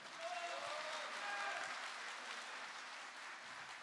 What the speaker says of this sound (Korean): 맹종원 동지께 힘찬 박수 부탁드리겠습니다